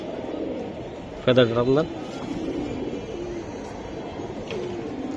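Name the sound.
pigeons cooing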